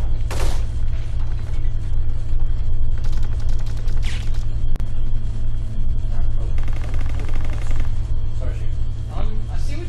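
Gunfire erupts in Kane and Lynch multiplayer, with scattered sharp shots and short bursts over a constant low rumble, while a player talks over the action.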